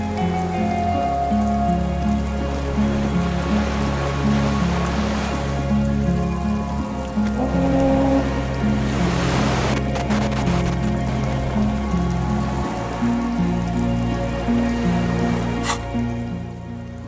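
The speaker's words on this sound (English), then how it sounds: "The skiff is swaying on the waves by the dock." Waves lap softly and continuously around a skiff moored at a dock in the video game Disco Elysium, a steady watery wash under sustained ambient music.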